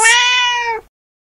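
A single loud, drawn-out meow from a black cat, close and clear, lasting under a second and ending abruptly in silence.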